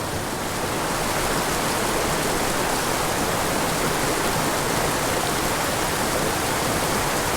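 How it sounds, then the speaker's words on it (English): Mountain creek rushing through a boulder-choked gully, a steady broadband roar of flowing water that stays constant and close throughout, with no voices. "this is effectively just a boulder-choked gully that happens to have a creek running through it"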